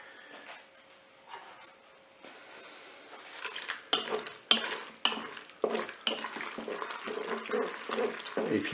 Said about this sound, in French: Voilà, je vais mélanger.